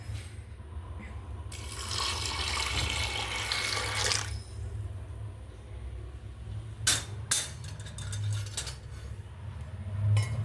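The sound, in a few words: pouring boiled water into pot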